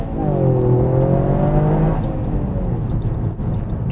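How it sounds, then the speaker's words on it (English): Toyota GR Yaris under full acceleration, its engine note climbing steadily for two seconds before easing into a broad exhaust whoosh, heard loud from inside the car with no talking. "Nice kind of whoosh from the exhaust as well under full acceleration."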